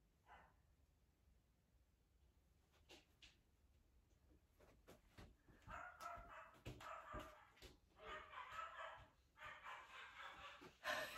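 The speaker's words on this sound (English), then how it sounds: "Just waiting for Teddy to stop barking" A dog barks repeatedly in a backyard, the yaps sparse and quieter at first, then growing into louder, rapid bursts toward the end.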